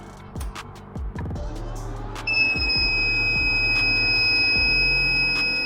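A steady high-pitched electronic alarm tone from a power inverter sounds continuously from about two seconds in, during a high discharge test of a 12V 100Ah lithium battery, over a low mechanical hum and a few clicks and thumps.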